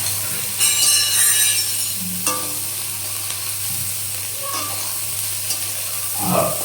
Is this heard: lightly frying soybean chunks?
yes